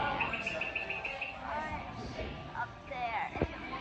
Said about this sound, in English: There's a bird right up